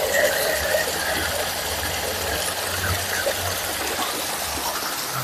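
A modified water pump driven by a Wipro 1HP single-phase electric motor runs steadily nearby, a continuous motor hum with gushing, rushing water noise throughout and no speech.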